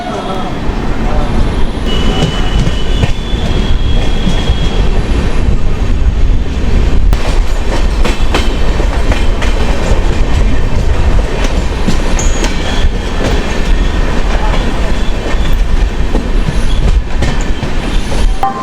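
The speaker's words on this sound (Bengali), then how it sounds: "এগারো মিনিট পর ধানবাদের উদ্দেশ্যে ট্রেনটা রওনা দিল" The Sealdah–Jammu Tawi Humsafar Express runs toward Dhanbad with a loud, continuous rumble, clattering wheels and occasional squeals, heard from on board.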